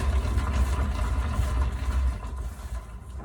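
A spinner turns a canister lid with a steady, low motor hum and rumble that runs evenly throughout, easing off slightly near the end.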